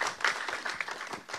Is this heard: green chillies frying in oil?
no